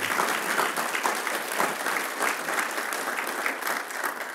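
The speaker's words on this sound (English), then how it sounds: "Can we get a round of applause for them?" Steady, loud applause from an audience at a university event, honoring a student alliance group, with dense clapping sustained throughout and no talk over it.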